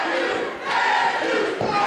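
A wrestling crowd roars steadily at a cage match, the cheering for Mike Matthews loud and sustained, with a brief dip before surging again.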